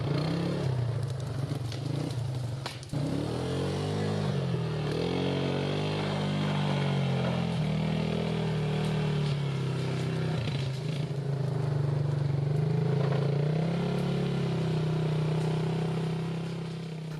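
A Suzuki LT 250 4x4 quad in four-wheel-drive low with the front diff lock engaged drones steadily under load while pulling out over logs, with some clatter and scraping, its engine note rising and holding.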